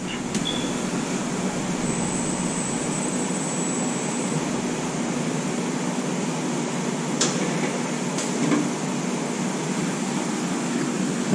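A wheel balancer spins a dually truck wheel under its closed hood, giving a steady, loud mechanical whir with an even hum that holds throughout, plus a few brief clicks.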